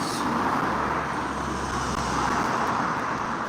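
Cars pass steadily along a road, a continuous broadband rumble of tyres and engines with no gaps, fairly close and loud, no talking.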